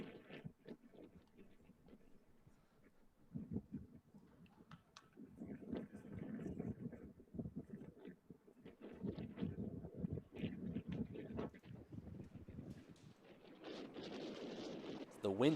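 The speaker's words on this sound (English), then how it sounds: "the wind is going hard here at the end of this game" Gusty wind buffets the microphone at the end of a college baseball game, coming in uneven low rumbling bursts that swell and fade, fairly faint overall, with no talk.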